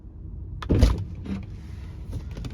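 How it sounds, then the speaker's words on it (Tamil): A Tesla car door opens at the press of a button: a soft click, then a brief whirring and thud of the latch and door releasing, followed by a quieter mechanical clunk in a short, close recording. "ஸோ இந்த பட்டன் ப்ரெஸ் பண்ணோன்னே நமக்கு கதவு திறந்துடும்."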